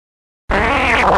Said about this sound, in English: Oops. I farted.